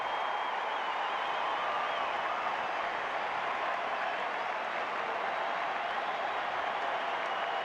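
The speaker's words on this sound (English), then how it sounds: "This Fenway crowd ready to explode as they stand as one." Fenway Park baseball crowd during a Cleveland at Boston game, a steady dense roar of cheering and applause with the stadium on its feet, loud and sustained throughout with no clear voices on top.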